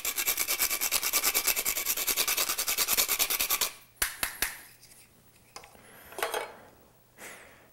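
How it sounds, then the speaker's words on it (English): A cinnamon stick is rasped against a grater in quick, even strokes for about four seconds, a steady close scratching rhythm, followed by a few sparse scrapes and knocks. "what I'm going to do is take a stick of cinnamon and grate that as well"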